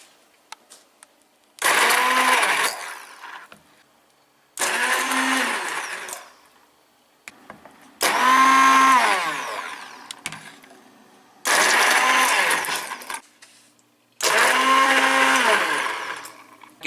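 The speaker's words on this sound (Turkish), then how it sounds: "Mikser yardımıyla onu iyice püre haline getireceğiz." A hand blender purees ratatouille sauce, whirring in repeated bursts of about two seconds each, five times, with short quiet gaps in between; loud and close.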